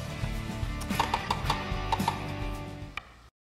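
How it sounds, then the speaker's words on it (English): Knife chopping fresh parsley on a board for turkey stuffing, a quick run of about a dozen crisp, evenly spaced taps close up, with a faint steady hum underneath. "Parsley, an easy chop."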